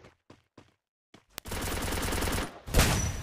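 Rapid automatic fire from dual Vector submachine guns in Garena Free Fire, a sustained dense burst after a few brief shots, loud and close, with a fresh louder volley near the end.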